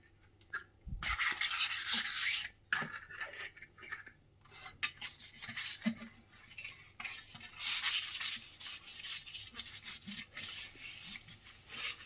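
A brass pooja lamp being scrubbed clean by hand, with rough rubbing strokes in uneven bursts broken by short pauses, close and steady.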